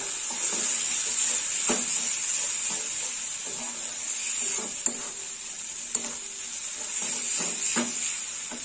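Spices frying in oil in a pan for Bhola fish curry: a continuous bright, hissing sizzle with faint scrapes and an occasional soft tap, close and steady throughout.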